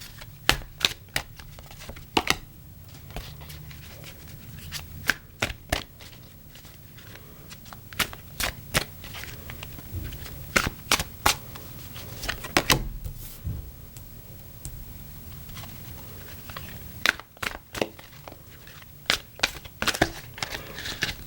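Tarot cards are shuffled close by, with sharp snapping riffles and slaps in irregular bursts over steady quiet room noise and no talking.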